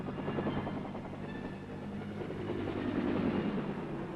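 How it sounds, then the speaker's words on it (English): A Bell UH-1 Huey helicopter takes off and flies, a constant loud rotor thudding and turbine roar holding steady throughout with no voices. "The Huey takes off like an angry hornet."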